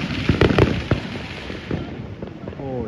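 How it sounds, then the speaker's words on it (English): New Year's fireworks bursting outdoors, several sharp booms and crackles in quick succession, loud and fairly close, with excited voices talking over them and distant pops continuing. "look at all these fireworks"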